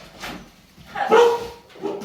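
Indoors, a dog barks and whimpers in short bursts: a faint yelp, then a louder whining bark, then another brief yip, moderately close.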